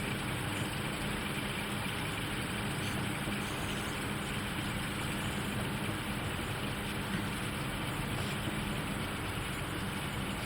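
A steady, droning diesel engine rumble with a constant mechanical hum throughout, no variation or pauses, from a simulated Class 42 Warship diesel-hydraulic locomotive with its transmission adapting.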